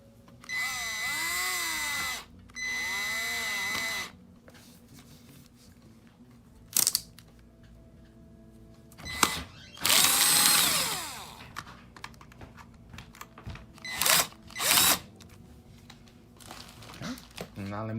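A power drill drives two screws into the charge port of a white Swagtron SwagCycle EB-5 14-inch electric bike, heard as two steady whirring bursts of a couple of seconds each, followed by handling clatter and a further longer whir.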